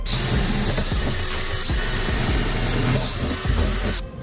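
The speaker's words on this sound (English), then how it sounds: "And drill all your other holes." A power drill whirs steadily at high speed, drilling holes in a shipping crate for a heavy engine part, with brief pulses as it bites into material, then cuts off near the end.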